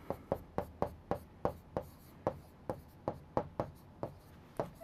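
A pen moves over paper as notes are written by hand, a steady series of about sixteen soft, rhythmic scratching strokes close by, with no voice over them.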